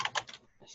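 Quick keystrokes on a computer keyboard as a password is entered, a few crisp clicks in a short burst, close and clear, with no voices.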